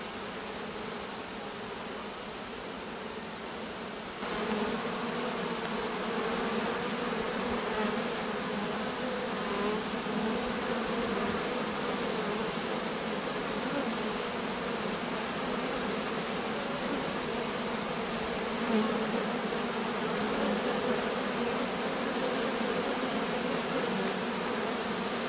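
A honey bee swarm buzzes densely and continuously for about twenty-five seconds as it moves toward the hive during a shook swarm, close and steady, growing slightly fuller after the first few seconds.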